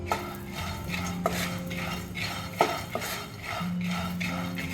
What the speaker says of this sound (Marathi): छान भाजून घ्यायचे आहेत हे दाणे